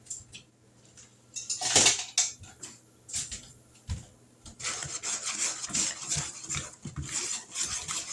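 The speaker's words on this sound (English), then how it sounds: "we'll whisk this up" Dry ingredients of spices, salt, baking powder and baking soda whisked together in a bowl for mini pumpkin loaves, giving close, scratchy rubbing and rasping strokes with a few sharper clinks, steady and busy with no talking.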